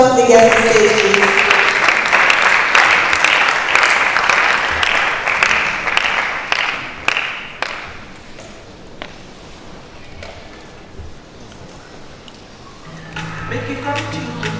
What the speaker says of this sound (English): Round of applause to the guests on stage